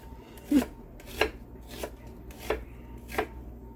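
A knife chops onions on a cutting board in a home kitchen, about five crisp, evenly spaced thuds at close range, no talking.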